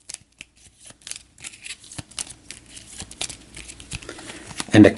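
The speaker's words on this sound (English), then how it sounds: "We'll give this a quick little shuffle." Eldritch Horror mystery cards for Azathoth being shuffled by hand: a run of quick papery riffles and soft card slaps, building to a louder burst at the end, close and alone without talk.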